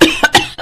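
An elderly woman with a parched, dry throat coughs: four loud, close, rasping bursts in quick succession, with a brief pause before the last one.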